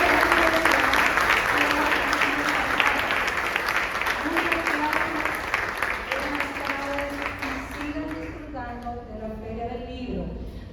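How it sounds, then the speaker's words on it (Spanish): Applause rises from the audience at a university reading conference, dense clapping filling the room with voices and talk running through it, fading slightly toward the end. "Así que vamos a darle un fuerte aplauso a la organización."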